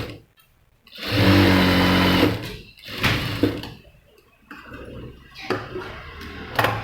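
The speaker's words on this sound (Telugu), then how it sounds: "నేను అట్లా పెట్టేసుకొని స్టిచ్ చేసుకొని వచ్చేస్తాను." A sewing machine stitches a sleeve on a child's blouse in short, loud bursts of rapid whirring, the longest about a second, separated by quiet pauses and handling clunks, close up.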